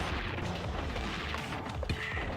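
Rocket explosions in the video game Gato Roboto, a dense, continuous rumble of booming blasts and crashes, loud and close, with a sharper impact near the end.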